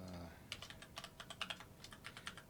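Rapid keystrokes on a computer keyboard entering a username during a Windows setup, a quiet, close run of about fifteen crisp clicks in a brisk, slightly uneven rhythm.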